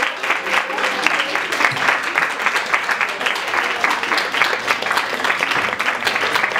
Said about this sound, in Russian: Дорогие друзья, давайте позовем наших сегодняшних гостей громкими аплодисментами.